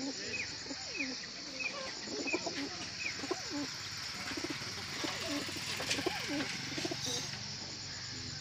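Racing pigeons on a rooftop loft at a pigeon-flying tournament, giving repeated soft low coos in a steady rhythm, faint over background hiss with insects chirping.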